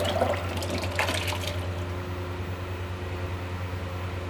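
Water is poured into a cooking pot to boil soaked lentils for daal mash, making a steady, soft, rushing splash with a brief louder burst near the start, then a continuous hiss under a low hum.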